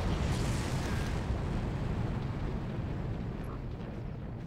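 Loud, continuous dense rumble of battle noise from the Far Cry video game, with gunfire and explosion-like roars blending into a sustained wash that stays strong throughout.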